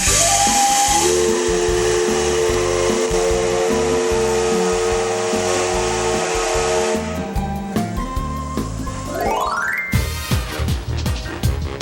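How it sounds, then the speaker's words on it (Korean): A steam locomotive in Kyoto lets out long, loud whistle blasts over a steady wash of hissing steam, then a rising whistle tone and sharp, rapid chuffing bursts close by. "TV에서나 봤던 증기 기관차를 직접 보니 마냥 신기했습니다."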